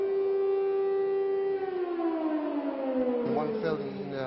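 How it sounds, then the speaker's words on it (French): Civil defense siren sounding a missile warning, a loud sustained wailing tone that holds then slowly falls in pitch, with a second rising wail entering near the end. "Maintenant, quand j'entends la sirène,"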